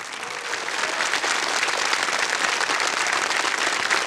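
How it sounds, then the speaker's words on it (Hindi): Studio audience applause on a KBC (Kaun Banega Crorepati) TV quiz show set, a dense, steady wash of many hands clapping that swells in after a brief start and holds loud throughout, with no talk over it. "तालियां बज जाए इनके लिए।"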